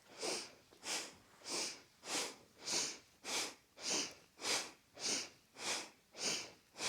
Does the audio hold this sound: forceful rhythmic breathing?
yes